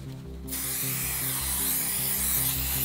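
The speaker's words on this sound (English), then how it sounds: "Add some spray glue." Spray glue hisses from a can for a short burst at the start, sprayed onto cling wrap over a taped form for a DIY Stranger Things gate prop, then gives way to a steady low tonal hum.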